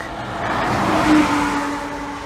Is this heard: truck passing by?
yes